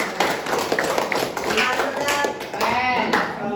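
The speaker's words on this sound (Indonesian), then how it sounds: "tepuk tangan dulu untuk kelompok kalian" Students clapping for a classmate group in a vocational school classroom, a brisk patter of hands from a small crowd, with voices and chatter mixed in throughout.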